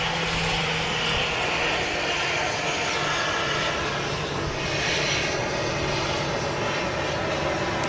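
A fixed-wing airliner's engines roar steadily at Manchester Airport, a loud, broad, continuous rumble and whine that swells slightly as the plane passes, with no one talking.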